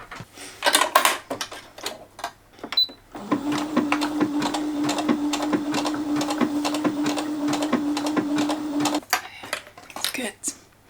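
A sewing machine stitches a black and white striped vest for a Beetlejuice costume in a steady, rapid run of about six seconds, with handling clatter before it and talk around it.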